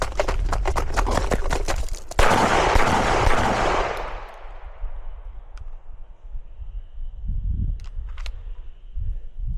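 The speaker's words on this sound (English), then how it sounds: "I did 7 shots standing instead of kneeling" Sig Sauer P365 pistol shots fired in a practical shooting drill, a quick string of loud, sharp cracks in close succession, then fading ambience with a few distant pops.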